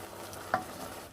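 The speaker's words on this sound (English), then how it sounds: "I'm currently stirring in my stock for my risotto" Stock being stirred into risotto produces a quiet, soft slosh and stirring murmur with a faint bubbling hiss, broken by one brief spoon click.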